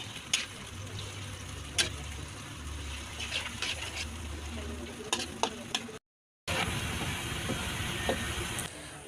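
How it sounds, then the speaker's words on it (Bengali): Chopped onions frying in hot oil for birista hiss steadily while a spoon scrapes and clicks against the pan, with a brief silent gap before the sizzle resumes louder. "এরপর আমি এই গরম তেলের ভিতরে পেঁয়াজ কুচি ছেড়ে দিলাম, পেঁয়াজের বেরেস্তা করার জন্য।"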